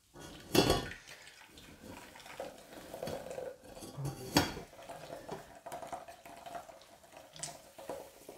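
Homemade coconut milk is squeezed from shredded coconut by hand in a kitchen, giving soft wet squelches and drips with a few sharp clinks of a bowl, close and fairly quiet.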